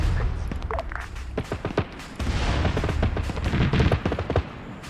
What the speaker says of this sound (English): And there's the rocket run.